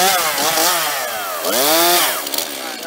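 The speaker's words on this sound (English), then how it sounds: "Once you see how big wood chips are coming out, let you know that your saw's good." A chainsaw cuts firewood up close and loud, its engine pitch rising and falling as the chain bites and throws large wood chips.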